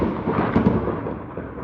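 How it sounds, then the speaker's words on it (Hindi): Loud thunder rumbles in a deep, rolling swell, with a brief stronger crack-like peak midway before the rumble slowly fades, heard alone without talk. "बहुत तेज बादल गरज रहा है"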